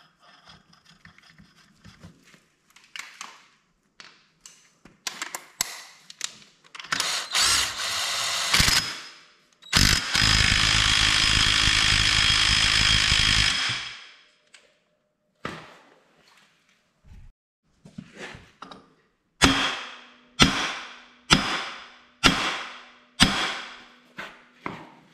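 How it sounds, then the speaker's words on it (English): Impact wrench working on the clutch of a Polaris Sportsman 500 ATV, a moderately powered tool firing in short bursts, one long sustained run in the middle, then a string of sharp separate hits, close and loud with no talk. "The impact I'm using is not a super powerful"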